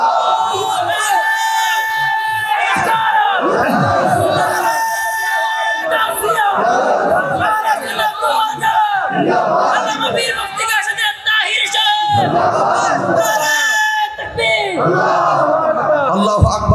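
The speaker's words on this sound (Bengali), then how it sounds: "একটা স্লোগান দাও।" A crowd at a sermon chants a religious slogan in repeated loud bursts of collective shouting, with pauses between the bursts and a speaker's voice leading them.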